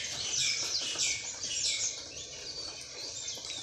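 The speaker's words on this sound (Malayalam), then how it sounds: "പക്ഷി അവിടെ ഇരുന്ന് കാര്യമായിട്ട് എന്തൊക്കെയോ കലവില പറയുന്നുണ്ട്" Outdoors in a natural setting, a bird chatters in quick, bright, repeated chirps at moderate distance, with no voices.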